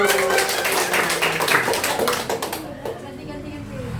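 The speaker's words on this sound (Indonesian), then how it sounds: "tepuk tangan dulu" Hands clapping at a Christian prayer gathering, a quick patter of claps blended with voices that carry on talking and fades toward the end.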